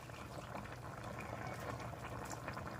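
A covered pot of lauoy, a vegetable stew, simmers quietly at a steady boil, its soft continuous bubbling and hiss staying even and faint throughout with no talk.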